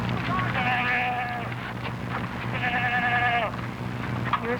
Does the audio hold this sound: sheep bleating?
yes